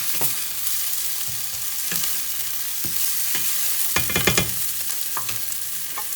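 Garlic and jalapeno sizzle steadily in a hot pan while a utensil stirs them, its scrapes and clinks coming in short bursts, loudest near the middle, up close with no talking.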